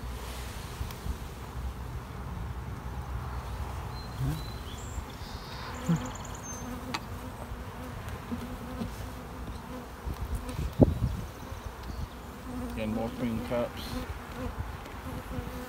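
Close, dense buzzing of honeybees in an open beehive building comb, a continuous hum with occasional louder passes; people speak quietly now and then, and a few faint bird calls sit in the background.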